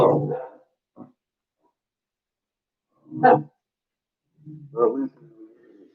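A dog barks in a car, its front-seat barks coming as a few short bursts with pauses between, close and fairly loud, while someone talks nearby.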